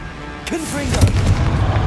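A Confringo fire spell explodes in Hogwarts Legacy, a short booming blast near the middle of the clip amid busy combat noise, with a voice shouting over it.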